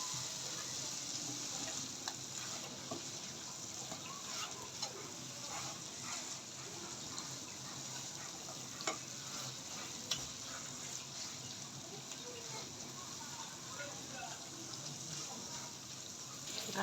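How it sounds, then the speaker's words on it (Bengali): Gulsha fish frying in hot oil for a fish curry, a steady, dense sizzle and hiss that runs unbroken throughout with a few sharper crackles and pops. "দেখেন তেলটা ছেড়ে আসতেছে আমি এখন মাছগুলো দিয়ে দিব"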